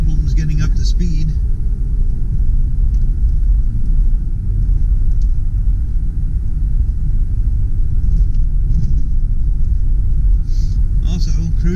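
Low, steady engine rumble and road noise from inside a 2005 Jeep Grand Cherokee Limited 4WD as it accelerates and gets up to speed, a continuous drone with faint cabin sounds over it.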